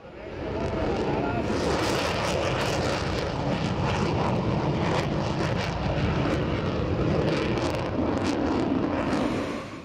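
An EF-18 Hornet fighter jet flies past at an air show, a loud, continuous broadband roar that holds steady and fades slightly near the end, with no voices.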